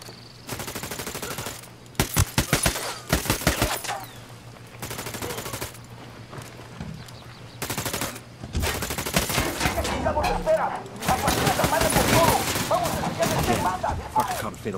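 Gunfire from the Ghost Recon Wildlands video game, with bursts of automatic fire and single shots cutting in and out over about fifteen seconds, loud and close, with players talking between volleys.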